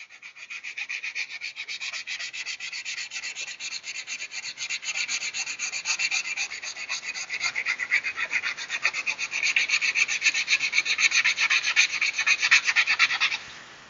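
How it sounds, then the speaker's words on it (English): Sanding car body paint on a fender by hand, a steady close scratchy rubbing with fast back-and-forth strokes that continue evenly throughout and grow slightly louder near the end. "You don't want to sand it too hard to where you're destroying the finish that you just did"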